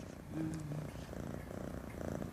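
A cat purring close by, a soft continuous rhythmic rumble with steady low pulses, heard alone without speech.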